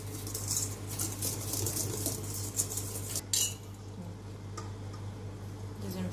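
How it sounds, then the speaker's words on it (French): Lemon cake batter being stirred in a bowl with a utensil, giving a steady scraping and clinking of metal against the bowl, close and continuous, with a low hum underneath and no talking. "Deuxième fois, on mélange."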